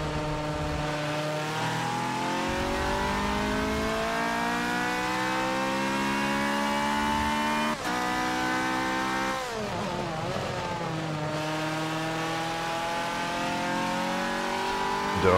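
A Ferrari 458 GTC race car at Spa in the Forza Motorsport 7 video game, its engine revving up and down continuously through quick gear shifts, loud and close, with a brief squeal of tires.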